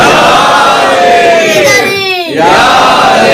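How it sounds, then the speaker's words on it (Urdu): A loud crowd at a Shia majlis in a mosque shouts in unison the religious slogan "Naara-e-Haidari," voices swelling into a chant with a rising, drawn-out cry in the middle. "لگاؤ بیٹا نعرہ"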